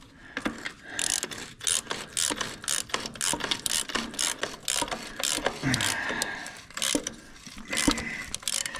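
A ratchet wrench tightening a bolt during a brake job on a U302, a rapid, loud series of pawl clicks in quick repeated strokes, close and mechanical, running steadily for several seconds without talk.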